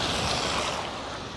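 Wind blows snow across an icy spot in Los Angeles, a steady, rushing roar that buffets the microphone up close and eases slightly toward the end, with no voices.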